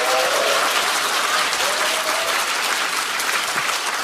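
Warm, steady applause from an audience welcoming four guests at a Korean political gathering, a dense, even wash of clapping sustained for about four seconds with no break.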